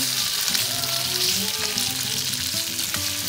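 Korean BBQ meat frying in a hot pan, a dense, continuous crackling sizzle that stays close and even, with no talking over it.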